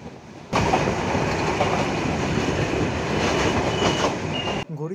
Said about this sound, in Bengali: চিত্রা এক্সপ্রেস ট্রেন তার প্রথম যাত্রাবিরতি স্টেশন ঢাকার বিমানবন্দর রেল স্টেশনে প্রবেশ করল